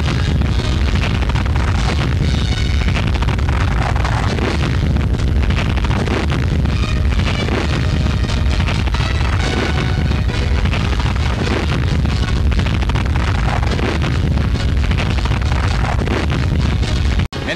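Bomb blasts bursting near warships at sea, a continuous, heavily distorted roar of explosions and rumbling noise that stays loud throughout with no quiet gaps.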